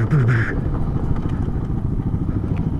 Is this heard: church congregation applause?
no